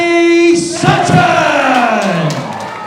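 Crowd at an amateur 72kg Muay Thai fight erupts in loud cheering and shouting as the winner is announced, a sustained roar of many voices with some whoops after a brief held announcer tone.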